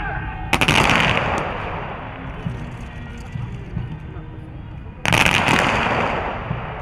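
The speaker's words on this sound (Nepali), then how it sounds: "यसमा एक एक गरेर होइन, पूर्व र पश्चिमबाट पालै पालो र एकै साथ फायर हुन्छ।" Two loud ceremonial gun salute volleys, fired from east and west, ring out several seconds apart, each a sharp broadband blast trailing into a long reverberant rumble, with a voice talking throughout.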